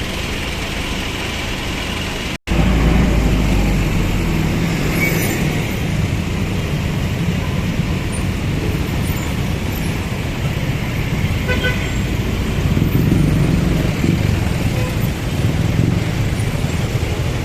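Dense, congested afternoon city traffic in Davao City rumbles steadily with idling engines and passing vehicles, broken by occasional horn toots throughout.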